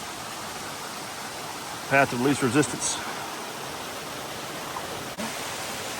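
Creek water rushing steadily along a forest stream near a waterfall in a wilderness area, a constant broad hiss filling the background while someone speaks briefly over it.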